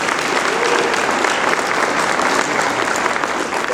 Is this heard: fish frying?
no